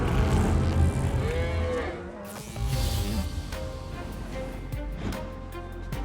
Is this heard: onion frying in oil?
no